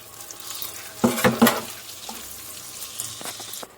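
Chopped onion hits hot oil for an Egyptian yellow lentil soup topping, giving a loud sizzling burst with stirring that settles into a softer steady sizzle, with no one talking.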